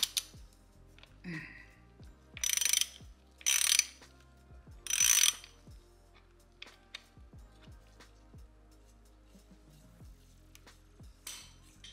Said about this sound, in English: So I'm getting ready to get this primary bolt here out.